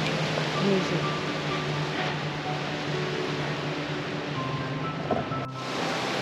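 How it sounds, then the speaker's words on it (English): Ocean waves wash steadily onto an empty beach near a campground, a continuous broad surf roar with light wind noise and no distinct breaks, fairly loud and close throughout. "There's no one out at the beach down here."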